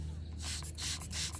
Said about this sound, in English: go ahead and spray this up.